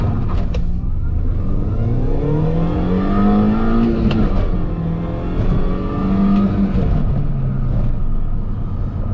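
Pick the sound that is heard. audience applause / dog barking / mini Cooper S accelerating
mini Cooper S accelerating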